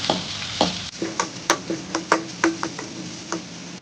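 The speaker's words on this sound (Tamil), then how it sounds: "ஆனியன் போட்டுக்கலாம். போட்டு நல்லா வதக்கி விட்டுடலாம்." Onion and a green chili stirred in a pan, a quiet background sizzle broken by a run of distinct spoon or spatula scrapes and taps against the pan, about one per half second.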